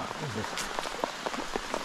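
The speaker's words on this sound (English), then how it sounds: "Timed it perfectly for the bloody rain." Rain falling in the wet tropics on a bush hunting trip, a steady soft patter on surfaces with scattered drop hits, heard faintly behind someone talking.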